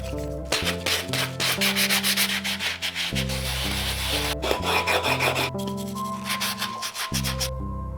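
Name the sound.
sanding outside of aluminum C-stand part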